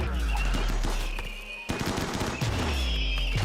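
Colonists in RimWorld open fire from behind walls in a kill box, with a rapid burst of gunshots, a sharp crack near the middle, then more shots over a continuous low rumble.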